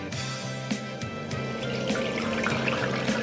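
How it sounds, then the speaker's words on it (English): Cold water pours steadily into a container in a home kitchen to make a brine for pork tenderloin, a continuous close splashing stream with no talking. "We're going to start with 1 liter of cold water,"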